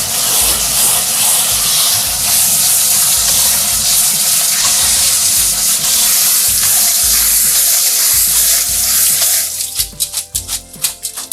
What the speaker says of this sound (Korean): 찬물에 밀가루 전분을 싹 빼서 씻어주세요